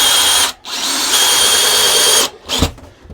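Power drill driving screws back into the wall of a camper trailer during a bunk bed tear-out, two loud sustained whirring bursts with a brief pause between them and a short clunk near the end.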